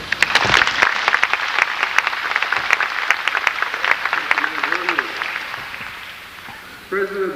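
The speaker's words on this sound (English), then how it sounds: "It does my heart good to see each and every one of you out here applauding and supporting." A large audience at a 1990 public rollout event applauds in a dense, sustained wash of clapping that gradually thins and fades, and a voice begins speaking near the end.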